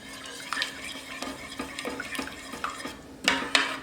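Tomato soup vegetables are stirred in a pot, giving soft, irregular scraping and clinking strokes of a utensil against the pot, fairly quiet and close.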